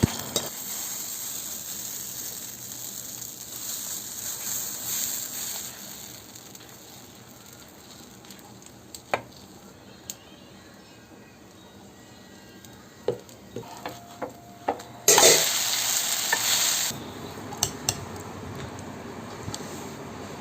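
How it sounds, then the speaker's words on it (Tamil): Tempering spices for tomato chutney crackle and sizzle in a pan, a quiet steady hiss with a few sharp pops and scrapes, plus a short louder burst of sizzling near the end. "தாளித்து அதில் போட்டுடலாங்க."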